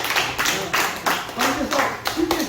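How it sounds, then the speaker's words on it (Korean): An audience claps in support of a young golfer with rhythmic clapping in bursts, while someone speaks over it. "우리 응원의 박수 한번 해주세요"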